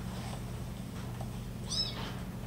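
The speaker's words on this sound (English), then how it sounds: "those are the cats that leelee found" Cats meowing indoors, a couple of faint short mews over a low steady hum.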